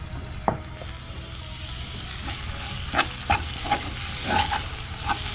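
Prawns frying in ghee with curry leaves give a steady close sizzle with scattered crackles and stirring scrapes, no voices.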